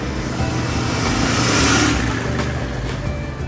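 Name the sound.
Royal Enfield Continental GT 650 motorcycle engine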